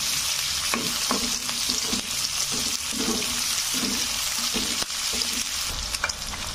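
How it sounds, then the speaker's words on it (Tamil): Tomatoes and garlic sauté in a hot pan for cluster bean chutney, a steady close sizzle and crackle running throughout with occasional stirring scrapes. "கட் பண்ணி வச்சுருக்க தக்காளி, பூண்டு இதெல்லாம் சேர்த்து நல்லா பிறக்கி விட்டுருலாம்."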